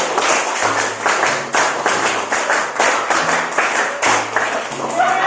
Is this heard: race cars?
no